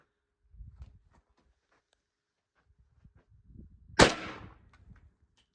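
A single sharp gunshot from an M1 carbine rifle firing .30 carbine outdoors, loud and close with a short ringing tail, after soft low thumps and rustling.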